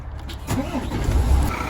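A container truck's engine cranks and catches in the early morning, a low rumbling build-up that settles into a steady idle, close and fairly loud with a faint voice in the background.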